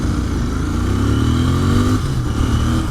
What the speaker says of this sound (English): Listen to those downshifts.